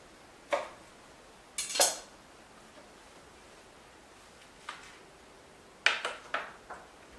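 Faint, sharp clicks of a knife blade striking a cutting board as orange slices are cut in half, several separate taps spread out with quiet pauses between them.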